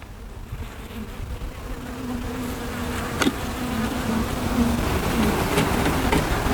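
Honey bees buzz steadily in an open hive with brood and larvae in the middle frames, a close, dense hum that carries evenly throughout with no voices.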